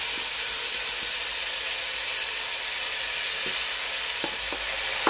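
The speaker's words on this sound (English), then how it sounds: "I'm gonna saute all of my vegetables." Vegetables sautéing in oil in a pan for Jamaican fricassee chicken give a steady, loud, close sizzle with a few faint scrapes of stirring, no talk.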